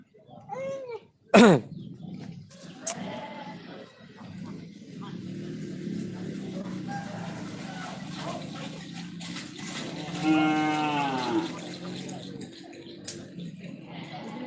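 A cow lows once, then later a longer moo rises over a background of murmuring voices and outdoor noise, with a sharp knock early on.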